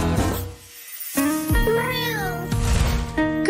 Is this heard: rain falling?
no